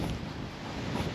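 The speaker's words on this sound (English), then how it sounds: "quite windy up here." Wind gusting across a hilltop buffets the microphone with a constant low rumble and roar, loud and unbroken throughout.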